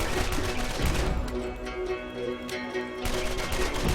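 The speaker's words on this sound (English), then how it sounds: "This fire elemental weapon just shred these creatures." Rapid automatic gunfire from a fire elemental weapon in a shooter game, loud bursts at the start and end around a quieter middle stretch with a tonal hum, fairly close.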